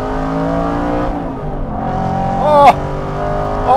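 An Aston Martin Vantage accelerates hard through the gears, its engine note climbing with a sharp shift blip near the end, loud and close, steady throughout with no talking.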